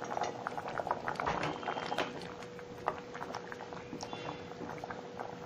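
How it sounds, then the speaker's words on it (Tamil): A pot of onion-free curry bubbles and simmers steadily, with irregular pops and gurgles of thick liquid at close range; no talking. "நல்லா கொதிக்குது."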